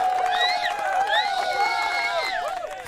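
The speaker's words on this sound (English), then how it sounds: "I think that deserves a big round of applause." A crowd cheers and whoops after a round of applause is called for, with several voices rising and falling in excited shouts over faint clapping across a few seconds.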